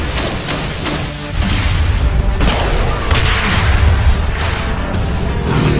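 Enemy gunfire in the Sleeping Dogs video game comes as dense, loud bursts of shots and crashing impacts that run almost without a break, close and heavy, with no voices over them.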